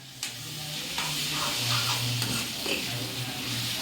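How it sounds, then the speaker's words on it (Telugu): Turmeric being stirred into chicken curry in a hot pan: steady sizzling and frying hiss with a few soft spoon scrapes and knocks, close and fairly quiet, with no talking. "ఇది మొత్తం మంచిగా కలపాలన్నమాట ఈ పసుపుని."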